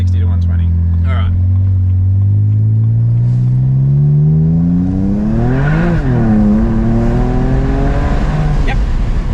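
A BMW with an N54 engine and hybrid turbos accelerates hard at full throttle from 60 to 120, pitch climbing steadily, dipping briefly at a gear change, then climbing again, loud and close.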